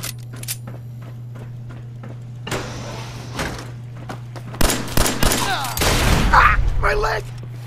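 Gunfire during a Fallout 4 fight against Gunners: a series of sharp, fairly loud shots and bursts crack out irregularly over a steady low hum, with a shouted voice near the end.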